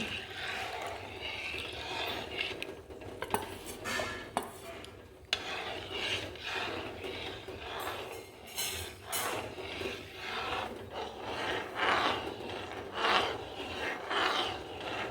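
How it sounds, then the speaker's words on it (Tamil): A ladle scrapes and stirs thickening Bombay halwa in a pan, making repeated soft rasping strokes in an uneven rhythm, close but fairly quiet. "நம்ம இதை கை விடாமல் கிண்டணும்"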